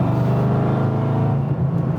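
A tuned 786bhp 2005 Ford Mustang engine drones steadily and loudly throughout, a deep rumbling tone holding near and constant while driving in the rain, with no voices.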